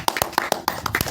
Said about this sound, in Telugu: first విన్నర్కి claps కొట్టిరండి